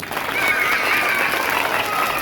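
A crowd of participants at a theatre workshop claps loudly and steadily, a dense continuous wash of applause with some voices mixed in.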